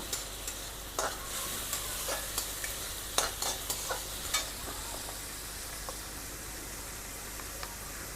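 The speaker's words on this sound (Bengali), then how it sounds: "পেঁয়াজ, কাঁচা লঙ্কা এগুলোকে একটু হালকা নাড়াচাড়া করব।" Onion, tomato and green chili frying in a pan with a soft steady sizzle, punctuated by repeated sharp spatula scrapes and taps as they are stirred, no talk.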